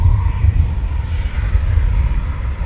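Typhoon fighter jets taxi on the ground at RAF Coningsby, a loud, steady engine roar with deep rumble and a high whine, sustained and fairly close with no voices.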